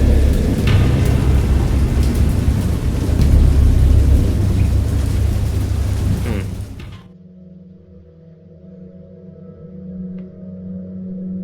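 Heavy rain roars with rumbling thunder for several seconds, then cuts off abruptly, leaving a faint low hum and occasional distant rumbles.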